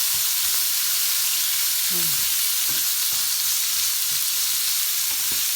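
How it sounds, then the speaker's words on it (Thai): Food stir-fries in a pan with a loud, dense, continuous hiss of sizzling, a few faint scrapes and clicks of the spatula underneath, and a brief voice-like sound partway through. "เริ่มผัดแล้วจ้ะ"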